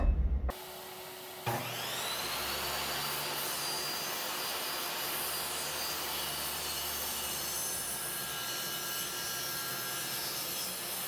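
A table saw cutting an INCRA 1000 miter gauge fence down to 19 inches, with a short spin-up followed by a steady, loud whining cut that holds for several seconds.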